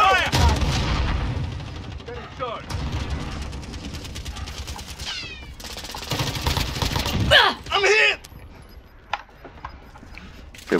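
Gunfire in Call of Duty: Warzone, a quads battle royale, comes in sharp bursts and single shots, some near and some farther off, with voices speaking between and over the shots.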